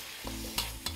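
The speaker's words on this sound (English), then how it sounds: "Quick toss and you're ready to plate." Beef and asparagus stir-fry sizzling in a pan, with two quick, sharp scraping tosses cutting through the steady hiss, brief and close.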